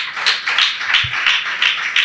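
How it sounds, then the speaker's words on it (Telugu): A church congregation claps together in a steady, brisk rhythm during an Easter resurrection sermon, with sharp bright claps repeating evenly and no talking over them. "అందరూ చప్పట్లు కొట్టండి గట్టిగా."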